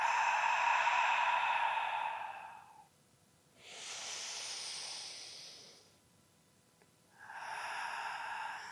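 Slow yoga breathing, with a long breathy inhale, a pause, a softer exhale, another pause and then a further inhale, all close and quiet with no talking.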